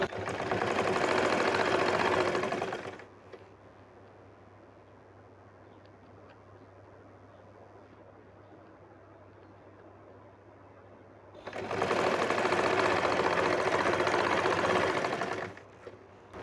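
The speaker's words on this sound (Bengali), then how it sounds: "এভাবে আমি সেলাই করে নেব" Sewing machine stitching a burqa seam, two loud bursts of whirring motor and needle rattle separated by a quiet pause of about eight seconds, near and alone.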